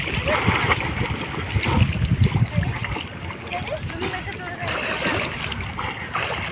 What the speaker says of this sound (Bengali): স্রোত, ভালো স্রোত।